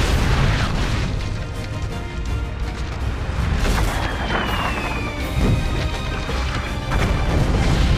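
Cannons firing in the video game Total War: Shogun 2, a dense, loud barrage of overlapping booms and crashes with no break.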